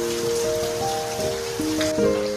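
Village monsoon rain keeps falling in a continuous wash of drops, with a tonal ringing layered over the patter at moderate level.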